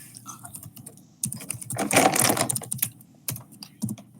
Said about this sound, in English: I'm typing it real.